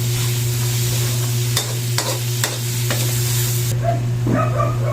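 Onion, garlic and ground meat sizzle steadily in a hot pan with frequent stirring scrapes and clinks, up close and loud, with a faint dog bark somewhere in the background.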